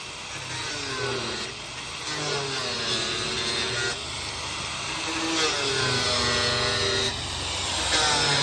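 A grinder cuts into a metal oil drum, its harsh, rasping whine changing pitch as the disc works through the steel, fairly close and continuous with brief dips.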